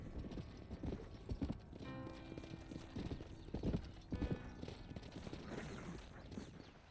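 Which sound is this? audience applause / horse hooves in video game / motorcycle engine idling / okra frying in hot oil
horse hooves in video game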